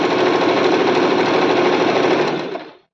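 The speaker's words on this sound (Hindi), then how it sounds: "सिलाई लगाते चले जाना है।" A sewing machine stitches a belt-style salwar with a loud, rapid, continuous mechanical whir up close, then winds down and stops near the end.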